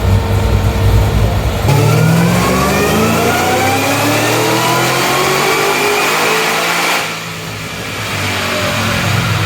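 Cadillac CTS-V wagon on a dyno run, its engine revving hard and climbing steadily in pitch, then the note drops off sharply as the throttle lifts and settles into a lower idle.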